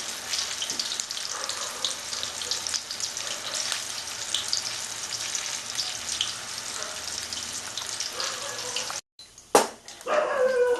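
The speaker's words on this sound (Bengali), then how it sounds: "হয়ে গেছে আমার চিকেন পকোড়া ভাজা" Chicken pakora deep-frying in hot oil, Bengali style, gives a steady, broad sizzle that holds unbroken for about nine seconds, then cuts off briefly and returns with a few louder bursts.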